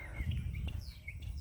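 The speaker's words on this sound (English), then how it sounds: "You hear the birds?" Birds chirp outdoors on a Thursday morning, with short high calls over a low rumbling background.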